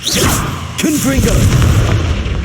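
A Confringo fire spell blast in Hogwarts Legacy, a close booming burst with a short whooshing tail, followed by a brief vocal-like effect and continuing low rumble.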